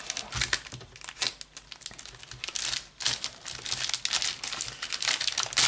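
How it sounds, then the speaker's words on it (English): Crinkly plastic wrapper of a Topps UEFA Champions League sticker pack being torn by hand and crumpled up close, a busy stretch of rustling and ripping with no talking. "I'm just going to have to rip into it as I've not brought my scissors."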